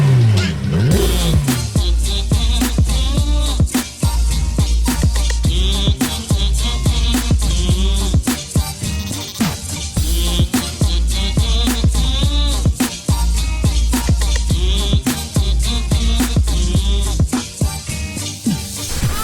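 A Porsche 991 GT3 with its stock exhaust revs hard again and again, loud and close, each rev rising sharply then dropping back to idle between bursts.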